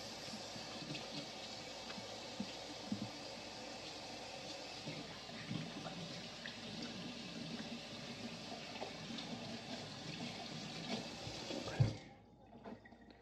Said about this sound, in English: wash my hands before I touch my seasonings